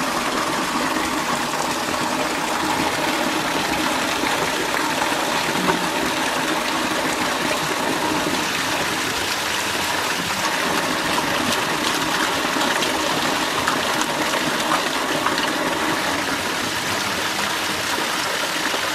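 Steady spring water flowing and trickling at a holy spring in Russia, a constant broadband rush with no pauses, fairly close and continuous throughout.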